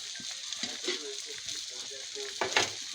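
Fish dropped into a pan of liver curry set up a soft, crackling sizzle with gentle stirring clinks, quiet and close, while a person speaks over it.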